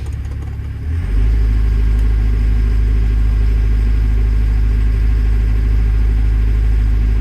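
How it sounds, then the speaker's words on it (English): A Doosan DX62 excavator engine runs rough with a misfire, a loud, close, uneven diesel rumble that settles into a steady idle with a lumpy vibration after a brief rise at the start. "There's definitely a misfire because I'm getting like a vibration."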